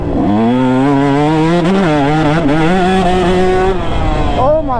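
A two-stroke dirt bike with a stock carburetor runs loud and close, its engine revving up and down in uneven blips and surges without settling.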